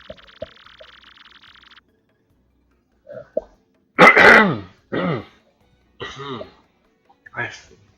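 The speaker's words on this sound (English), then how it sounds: "I'm really sorry about all the coughing." Several rough coughs and throat clearings come in short separate bursts, loud and close, with silence between them after a faint high electronic tone at the start.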